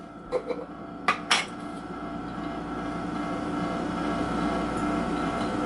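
Crab puff filling stirred in a bowl, a few sharp clinks of a utensil against the bowl followed by a low, steady soft churning.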